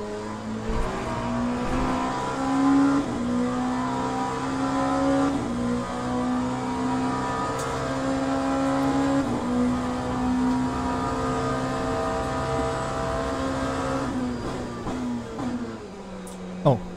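Race car engine in the sim racing game Le Mans Ultimate, a steady loud drone with shifting harmonic pitch as revs rise and fall through gears, running continuously for the whole stretch with no voices.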